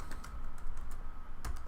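Keys clack on a computer keyboard while text is typed in Photoshop, a quick run of close, crisp clicks over a steady low room hum, with a louder burst of keystrokes near the end.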